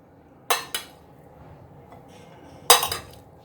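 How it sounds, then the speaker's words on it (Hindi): Metal spoon clinking against a plate while chana chaat is served, two sharp clusters of clatter about two seconds apart over a quiet room. "सबसे पहले आपने एक प्लेट में चाट ऐड करनी है"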